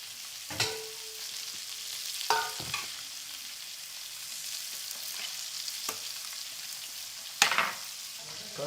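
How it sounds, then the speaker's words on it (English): Food simmering in a pot as it is stirred, with a continuous soft sizzle and a few sharper scraping strokes of the spoon, close and alone without speech. "make sure you simmer it, you turn it around thoroughly"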